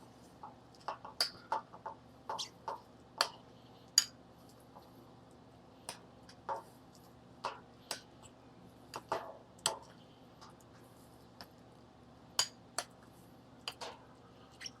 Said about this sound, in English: Now we'll just mix everything together.